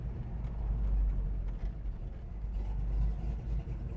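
A 1970 Chevrolet Chevelle with a Flowmaster exhaust idles steadily, its deep low rumble loud and continuous with slight pulsing, outdoors on a hot day with a hint of passing traffic.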